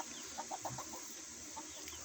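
A mother hen with her chicks gives a few soft, short clucks in a quick run, then one more a moment later, against steady background hiss.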